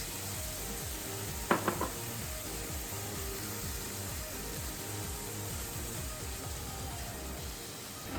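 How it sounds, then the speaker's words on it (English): Pork and seafood mix frying in a pan make a low, even sizzle, with a brief clatter of a utensil against the pan near the start and no voices. "Fry for another 1 minute and then take it out."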